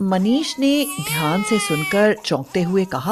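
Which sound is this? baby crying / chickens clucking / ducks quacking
baby crying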